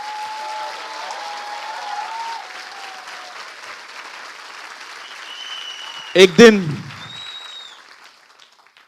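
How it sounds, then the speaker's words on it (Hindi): An audience claps loudly for a few seconds in a church-like gathering. The burst of applause rises out of ongoing sound and then fades away quickly. "आइए प्रभु के लिए एक अच्छी ताली बजाएं।"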